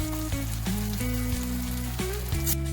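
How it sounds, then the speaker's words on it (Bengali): Ground spice masala and coriander leaves are stir-fried in a pan for stuffed potato curry, giving a steady close sizzle with a sustained hum underneath and no voices. "ভালোভাবে এটাকে নেড়ে চেড়ে কষিয়ে নিতে হবে"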